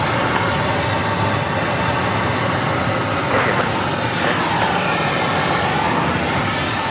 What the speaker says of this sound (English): That's the 777, American Airlines Flight 195 coming in from London. Landing shortly here at Phoenix Sky Harbor.